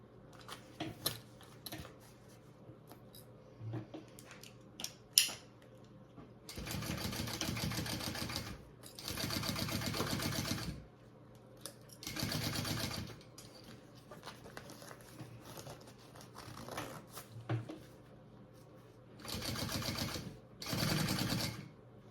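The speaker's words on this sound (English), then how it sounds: "now you're going to sew at your full seam allowance along the top" A sewing machine stitches a seam along the top of a zipper pocket on a fabric travel belt, sounding in several rapid, close bursts of whirring needle chatter separated by quiet pauses and small clicks.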